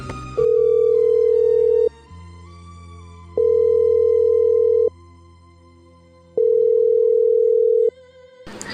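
A phone's ringback tone repeats three times in long, even bursts with pauses between, loud and close, and the call goes unanswered.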